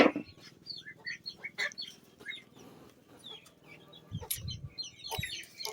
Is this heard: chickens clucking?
yes